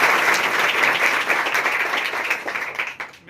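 An audience gives loud, steady applause for a mentor at a gathering in Betul, with the dense clapping holding strong before thinning out near the end.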